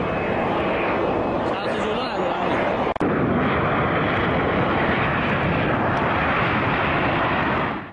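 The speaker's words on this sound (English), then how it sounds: "This Boeing 727 passenger plane of Iran Air is landing without its nose landing gear" An Iran Air Boeing 727 passenger jet lands without its nose gear after it stuck, its engines giving a loud, sustained broadband roar with a sharp jolt partway through, and speech runs over it.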